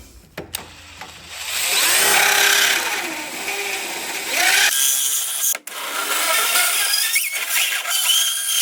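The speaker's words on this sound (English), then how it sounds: "Now you could use a file, or I'm going to use this little grinding tool" A small power grinding tool working on metal on a John Deere mower, a high whining grind that starts, runs loud and steady with a brief cut-off, then resumes at close range.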